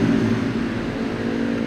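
A Yamaha MT-25 motorcycle with its stock exhaust runs close by, giving a steady, fairly loud engine drone with no clear rise or fall in pitch.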